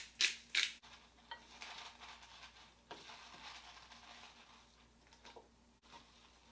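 Pepper ground over a beet salad: a couple of crisp, scratchy grinding bursts up front, followed by faint rustling and light kitchen handling noises at low level.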